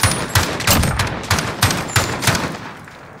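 Rapid bursts of video game gunfire in a Search and Destroy match, shots cracking loud and close in a steady rhythm of repeated volleys roughly every third of a second, with no talk over them.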